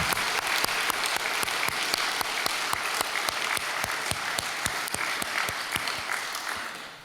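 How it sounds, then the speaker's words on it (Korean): A church congregation claps in unison at an early morning service, sharp evenly spaced claps in a steady rhythm over a soft bed of scattered applause that fades toward the end. "건강하고 아름답게 하나님 앞에서 잘 살아갈 수 있도록 우리 격려 박수를 한번"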